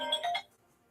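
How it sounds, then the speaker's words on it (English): A phone rings with an incoming call, one brief electronic ring burst that cuts off after about half a second, faint and alone with no talk. "I'm getting a phone call."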